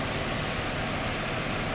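A 2003 Chevy Impala 3.8L engine with misfires and exhaust leaks runs steadily nearby, giving a dense, rough rumble with no clear pauses throughout the short stretch.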